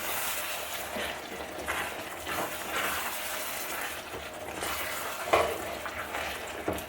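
A parmesan sauce bubbles and cooks in a pan on a lowered heat, a steady close sizzle and crackle with faint stirring clatter and a few louder pops near the end.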